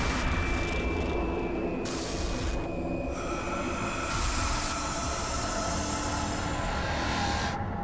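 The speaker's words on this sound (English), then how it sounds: "Are we on a train?" A train rolls along steadily in the horror game The Outlast Trials, a continuous loud rumble and rattle of wheels and carriages with faint high squeals, no voices.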